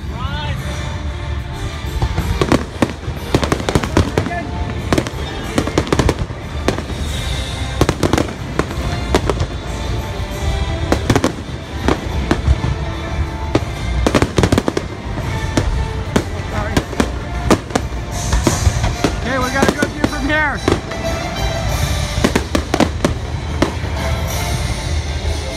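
Fireworks at the Epcot Illuminations show at Disney World, with loud repeated booms and crackling bursts at an irregular pace over a steady crowd din.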